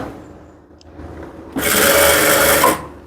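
A sewing machine stitches a fold in the extra lining of a boat-neck blouse, with a soft lead-in followed by a loud, close, rapid burst of needle whirring that lasts about a second before stopping abruptly.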